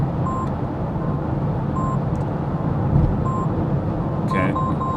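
A Polestar 2's driver-assist system sounds several short, faint warning beeps spaced about a second apart, almost buried under loud steady road and cabin noise while driving.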